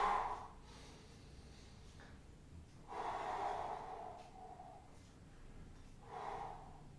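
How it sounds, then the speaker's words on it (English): Heavy breathing after kettlebell swings, with loud gasping breaths that come in bursts and then slow and quieten over several seconds. "Slow down the breathing."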